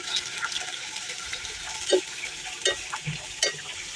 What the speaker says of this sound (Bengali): এই দেখেন তেল দিয়ে নিচ্ছি বেশি পরিমাণ। আগে আদা পেঁয়াজ রসুন সব কিছু নিলাম।